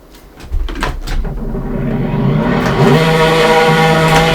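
A drift car engine in the Assetto Corsa video game revs up hard and climbs into a sustained high-pitched roar, starting with a few clunks before the loud rising whine.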